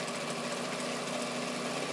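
A sewing machine runs steadily through folded fabric while stitching a channel, giving a dense, continuous mechanical whir that stays close and unbroken for the whole moment, with no voices.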